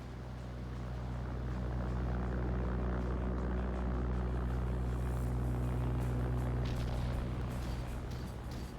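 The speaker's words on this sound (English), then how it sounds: "P-38 is out and about, and it will begin its strafing attempts here" P-38 fighter plane from the VR combat game Final Assault flying overhead, a steady droning propeller engine roar that stays loud and continuous throughout with a low rumbling hum.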